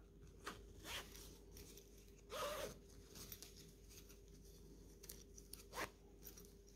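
A zipper on a cross-stitch project bag is worked open and shut, giving several short, quiet zips and rasping pulls spaced apart over a soft background, with no talk.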